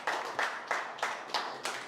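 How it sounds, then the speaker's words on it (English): An audience at an extempore speaking session claps for a participant, six slow, evenly spaced claps that sound close and modest in volume. "Okay, let's clap for Shalu,"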